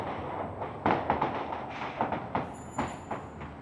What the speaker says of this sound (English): surely those are fireworks